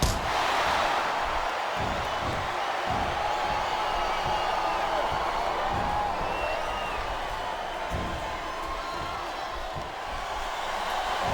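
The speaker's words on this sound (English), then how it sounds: "This capacity crowd is making their opinions known tonight." A capacity crowd of WWE wrestling fans roars with sustained cheering and shouting through a No Mercy 2007 Last Man Standing match, a dense steady wall of arena noise broken by a few sharp thumps.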